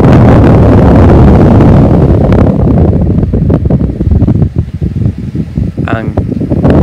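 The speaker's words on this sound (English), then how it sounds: "That's running the 1995 Duracraft 7-inch desk fan." A small 1995 Duracraft 7-inch three-speed desk fan runs with a steady broadband whoosh close to the microphone, and a voice talks over the constant airflow.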